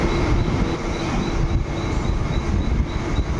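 Riding aboard a passenger train bound for CSMT station in Mumbai: a loud, continuous rumble of the moving carriage with faint rhythmic clacking of wheels on rail.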